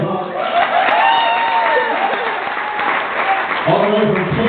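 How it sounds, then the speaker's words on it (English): Audience applause at a live folk concert for a birthday guest, a steady wash of clapping throughout, with voices and a brief sung or spoken phrase rising over it near the end. "Give her a big round of applause."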